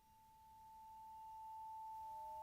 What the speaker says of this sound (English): So that almost creates a pure sine wave type of tone.